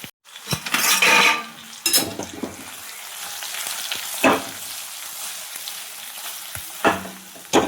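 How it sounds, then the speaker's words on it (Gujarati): Khatta dhokla pieces are tempered with asafoetida and green chillies and stirred in a pan, giving loud bursts of sizzling and scraping spoon-on-metal strokes between quieter stretches of steady frying hiss. "મિત્રો જો સરસ મજાના આ ઢોકળા વઘારાઈ ગયા છે આપણા."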